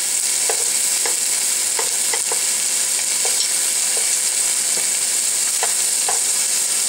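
Thin cheap steak fries in a pan, giving a loud, constant sizzle with scattered crackles and pops, close up and with no talk.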